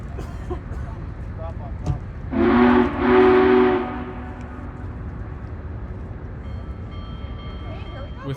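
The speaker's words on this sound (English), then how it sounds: "With two sounds of the whistle," Union Pacific Big Boy 4014 steam locomotive sounds its whistle twice in quick succession, two loud, sustained chords standing out clearly above a steady rail-yard background.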